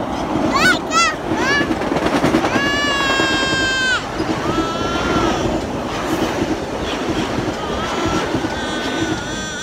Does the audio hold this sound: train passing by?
yes